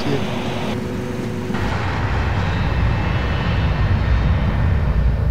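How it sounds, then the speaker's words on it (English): Airliner engines roar through a takeoff roll on the runway at Ljubljana, a loud, broad, building rumble after a brief earlier tone, with no clear speech over it. "Officer Terglav rolls Ljubljana for takeoff"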